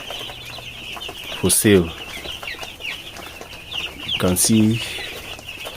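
Broiler chickens on a farm cluck in two short loud bursts with some wing flapping, standing out over a steady background of flock noise while a person talks.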